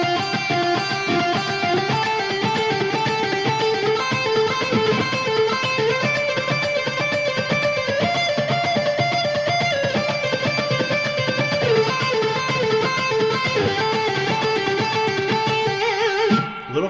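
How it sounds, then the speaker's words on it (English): Electric guitar plays fast two-string pentatonic sweep-picked arpeggios moving through different scale boxes, a rapid, even stream of notes at steady loudness that continues for the whole passage before stopping abruptly. "our next example is based on fast 2-string arpeggios within the pentatonic scale"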